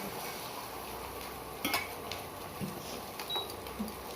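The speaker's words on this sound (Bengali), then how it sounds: "এখন ডিম ভাজা হবে ডিমের একটা ভাজা অলরেডি হয়ে গেছে আর একটা হচ্ছে" Eggs frying in a pan over a high flame in a home kitchen, a soft continuous sizzle with a few light clinks of utensils scattered across it.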